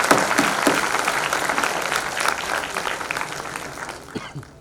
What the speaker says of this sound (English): a very, very big round of applause for all the parents who are here